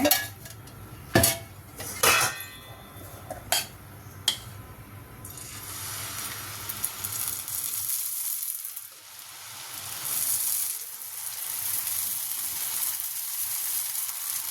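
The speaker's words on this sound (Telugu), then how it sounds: "వెలిగించి దోశ పెట్టాను ఇప్పుడు ఇందులో ఒక స్పూను నూనె" A dosa frying in a spoonful of oil on a hot pan gives a steady, close hiss. Sharp metallic clinks and scrapes from utensils come early, and the sizzle then swells and continues on its own.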